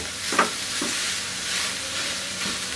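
Minced meat keema frying with onion and chillies, a steady close sizzle with a few soft stirring scrapes, no talk.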